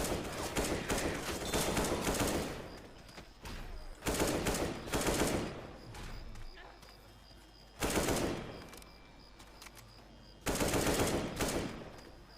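Bursts of automatic gunfire in the zombie shooter game Left 4 Dead 2, four loud rapid fusillades of a few seconds each separated by quieter gaps.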